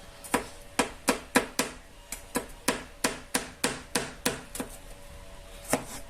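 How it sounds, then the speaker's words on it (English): Steady knife chopping on a board while preparing chunky pork pasta: about fifteen crisp, evenly spaced strikes, close and distinct, with no talking. "I'll chop this up as well."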